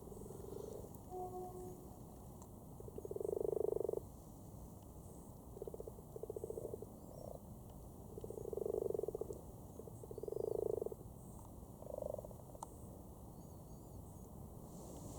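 A cluster of frogs mating in a pond in Cambridge in the evening croak in repeated low, buzzing bursts against a quiet outdoor background, some calls louder and nearer than others.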